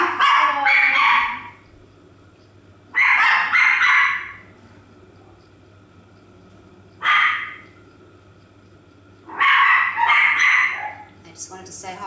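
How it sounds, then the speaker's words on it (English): Household dogs bark in four loud, close bursts of several rapid barks each, separated by quiet gaps while a car pulls into the garage, with a low steady hum beneath. "So I do apologise if they start barking."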